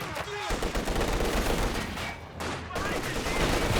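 Rapid barrage of Katyusha rockets at close range in the World War II strategy game Company of Heroes 2, a dense, continuous rumble of launches and explosions with a brief dip midway and no speech.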